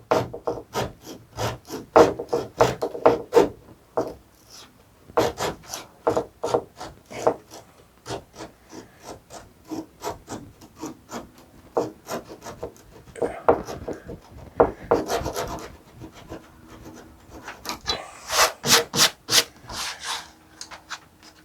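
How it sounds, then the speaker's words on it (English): Hand pull saw cutting wood on a boat-building project, a long series of close, rasping strokes in bursts with short pauses between, and a voice talking now and then. "pull saw, so I thought I'd take a shot at using this"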